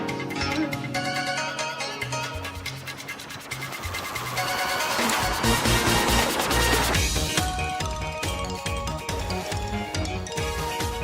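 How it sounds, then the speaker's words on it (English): A phone rings in the Pokemon Legends Z-A video game, giving a bright, chiming electronic ringtone that repeats over dense game music and grows louder midway, with no voices. "Their phone ringing."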